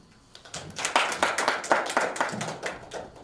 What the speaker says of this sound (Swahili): Makofi mazuri tafadhali kwa John Kebati.